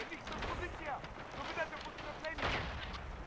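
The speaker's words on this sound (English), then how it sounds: "Grenade." Grenade blasts and gunfire in the World War I video game Tannenberg, with repeated loud bursts and crackling combat noise over a continuous battlefield din, under speech.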